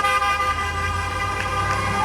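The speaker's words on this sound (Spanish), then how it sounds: "No paran de tocar bocina." Busy New York street traffic with car horns tooting, held tones over a continuous loud rumble of vehicles and city noise.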